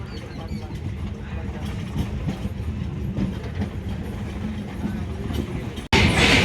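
Passenger train on the Dinajpur–Dhaka line running steadily, a loud continuous low rumble with rail rattle throughout and a sudden brighter burst of noise near the end.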